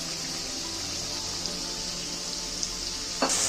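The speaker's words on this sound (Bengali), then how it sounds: "মশলাটা ভাজা হচ্ছে" Spice paste of turmeric, chili powder, green chili and a little water fries in a pan for a chital fish curry, giving a steady close sizzle with no talk and a brief clatter at the end.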